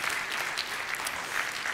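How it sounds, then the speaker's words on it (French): Conference audience at a DevFest Nantes 2016 talk gives a steady round of clapping for the event organisers, dense and even, moderately near, with no voices over it. "Je vous propose qu'on prenne d'abord 10 secondes pour applaudir les organisateurs pour l'événement"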